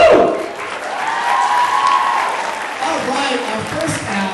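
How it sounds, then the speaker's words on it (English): An audience at a university multicultural night claps loudly and continuously, with a dense wash of applause and some cheering throughout the short stretch. "everybody, give another strong round of applause for tonight"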